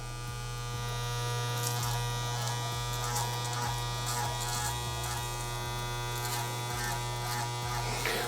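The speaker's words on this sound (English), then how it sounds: "you gotta like kind of tilt your clippers like this. You gotta use that whole clipper, or angle it down like this." Electric hair clippers cut a lineup, held close and humming in a steady, even buzz throughout, with small rhythmic shifts in pitch as the blade meets hair. No one speaks.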